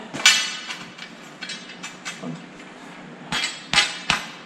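A fabricated steering shaft part for a race car is tapped into place, giving a series of light, sharp metallic taps at an uneven pace, some louder and ringing, others softer, with a couple of firmer knocks near the end.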